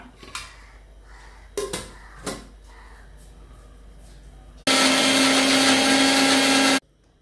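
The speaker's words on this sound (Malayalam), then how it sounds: "നാലഞ്ച് വെളുത്തുള്ളിയുടെ അല്ലി നാല് വെളുത്തുള്ളിയുടെ അല്ലി ഒരു തുണ്ട് ഇഞ്ചി ഒരു പച്ചമുളക് കേട്ടോ എല്ലാം ഇട്ടിട്ട് നന്നായി അരച്ചെടുക്കുക" A mixer grinder grinds garlic cloves, a piece of ginger and a green chili, running loud and steady for about two seconds near the end. Before it starts there are several clattering knocks of the jar and lid.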